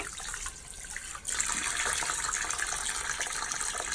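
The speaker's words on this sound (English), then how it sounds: "Wash my hands real quick." Hands being washed under a running tap at a sink, water gushing steadily and close, the flow briefly dipping before strengthening.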